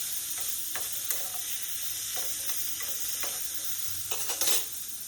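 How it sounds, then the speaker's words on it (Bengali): Fish and flat beans stirred with salt in a hot pan, giving a constant close sizzle broken by scraping spatula strokes that grow busier near the end. "নুনটা দিয়ে ভালো করে নেড়ে চেড়ে নিচ্ছি"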